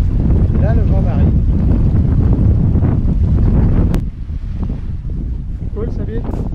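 Strong wind buffets the microphone on open water aboard a sailboat between Girolata and Calvi, Corsica, a constant rushing roar with faint voices underneath, easing slightly near the end.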